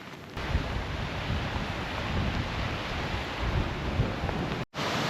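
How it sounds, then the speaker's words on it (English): Heavy rain pours steadily during a Scottish mountain hike, a dense close hiss with low wind rumble that cuts out abruptly near the end, no voices. "Back again. It's the rain."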